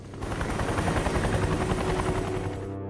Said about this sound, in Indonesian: mereka semuanya pun akan dievakuasi dengan menggunakan sebuah helikopter